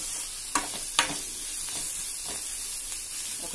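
Onions fried with ginger garlic paste for paneer bhurji crackle softly in a pan, with two sharp spoon scrapes near the start and a steady low sizzle, close and quiet.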